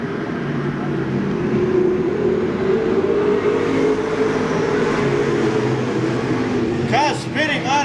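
Stock race cars roar around the short oval at Seekonk Speedway during weekly racing in 1995, a dense, loud, continuous engine drone from several cars, with an announcer talking over it.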